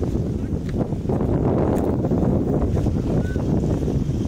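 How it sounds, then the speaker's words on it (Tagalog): Steady gusty wind rumbling and buffeting the microphone outdoors at a market, continuous and fairly loud throughout. "Medyo mahangin."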